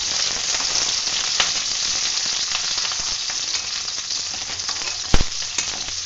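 Capsicum cubes frying in masala for kadai paneer, a loud continuous hiss and crackle with a sharp clatter partway through, no voices.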